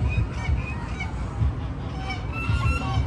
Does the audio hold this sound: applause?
no